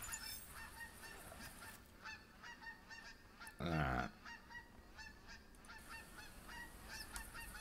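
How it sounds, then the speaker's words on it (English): Flock of geese honking repeatedly in theHunter Classic hunting game, a steady stream of overlapping calls through most of the stretch, with one brief spoken word partway through. "I'm not worried about the geese flying over now."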